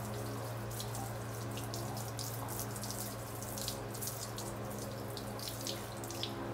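A tap runs steadily into a basin to fill water for bathing a dog, a continuous close splashing with a low hum underneath and no voices.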